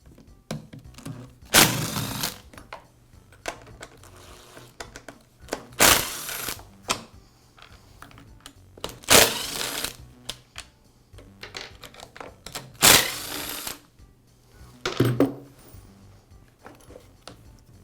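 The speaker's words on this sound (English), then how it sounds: "I'll begin by removing the starter from the saw." Removing the starter from a Poulan chainsaw, heard as several loud separate clunks and rattles of handled plastic and metal parts, spaced a few seconds apart with quiet handling noise between.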